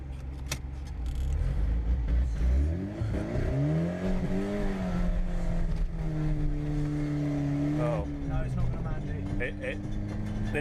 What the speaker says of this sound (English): they didn't work, and we have broken the exhaust,